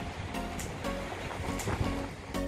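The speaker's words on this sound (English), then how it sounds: "It's really windy." Strong wind buffeting a microphone on a house rooftop during roof leak repairs, a continuous low roaring rush with periodic gusty swells, loud and close.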